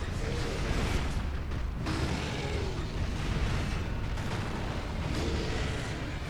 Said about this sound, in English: Got one more flame vent